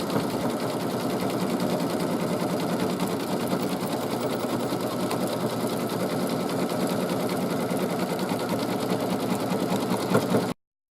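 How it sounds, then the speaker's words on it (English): A sewing machine stitches lettering onto a hooked mug rug, a steady fast mechanical whir with rapid needle chatter running close and constant before stopping abruptly at the end. "I'm going to stitch the last wording here"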